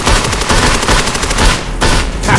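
Sustained, loud automatic gunfire in an animated battle, dense rapid bursts that briefly pause and then resume.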